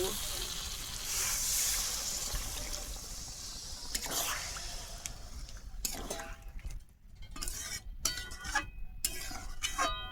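Water poured into a pot of potatoes cooked down with spices for a fish curry, a soft splashing trickle that settles into intermittent bubbling and drips, fairly quiet and close.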